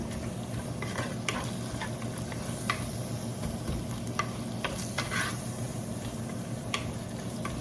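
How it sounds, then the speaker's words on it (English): Ginger and garlic paste frying on high heat in a pan, a soft continuous sizzle with occasional stirring scrapes and pops, fairly quiet and close, no voices. "big teaspoon of ginger and 2 teaspoons of garlic paste. in high."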